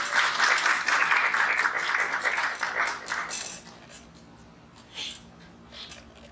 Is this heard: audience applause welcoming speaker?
yes